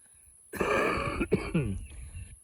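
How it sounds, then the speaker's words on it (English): A person clears their throat roughly a couple of times, followed by a short cough, close and fairly quiet. "so I can get my coughing done first"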